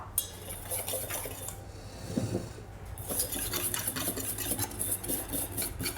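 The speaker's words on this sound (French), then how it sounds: "je vais pouvoir réitérer en mélangeant cette fois-ci ma farine et mon cacao poudre ensemble" Spatula or whisk folding flour and cocoa powder into a pastry batter in a bowl, giving soft continuous scraping and stirring against the bowl with light utensil clinks, steady and close, with no talking.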